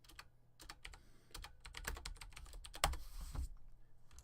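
Rapid, irregular clacking of keys on a computer keyboard, close and fairly quiet, with short pauses between bursts of typing.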